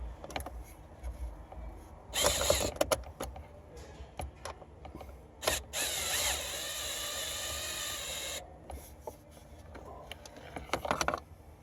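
A ratchet with an 8mm socket works a screw on the blend air door actuator of a 2011 Ford F150, giving quick close clicking runs and bursts of rapid ticking in a quiet cab, with no talking.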